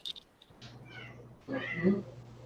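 A cat meows a few times, brief faint mews at first and then a longer, louder, close meow, over a low steady hum.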